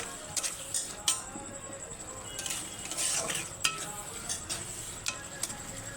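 Golden-brown onions frying in a pan as ginger garlic paste goes in, with steady sizzling and repeated clinks and scrapes of a utensil against the pan, close up and without talk.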